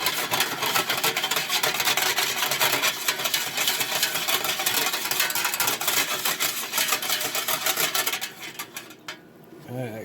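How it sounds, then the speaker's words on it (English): Honey is whisked into a brisket sauce, giving a fast, continuous clatter of a whisk scraping and tapping against a bowl, loud and close, easing off in the last seconds. "And a little bit of honey. And I'll whisk it."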